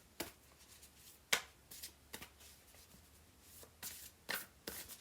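A deck of tarot cards being shuffled by hand gives quiet, papery riffles and sharp flicking bursts, spaced irregularly over a faint, steady background with no talking.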